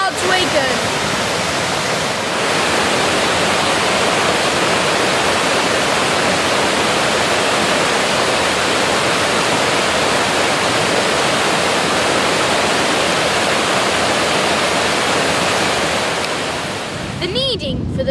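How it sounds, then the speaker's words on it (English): The River Douglas flows loudly beside a tunnel near the Wellington Lakes reservoirs at Standish, a close, constant roar of rushing water that holds steady throughout with no talk. "The River Douglas behind me will soon go through this tunnel towards Wigan."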